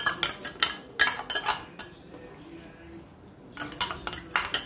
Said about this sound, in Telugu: అది కూడా ఇందులో వేసేసి కలిపేసుకోవాలి రాగి పిండి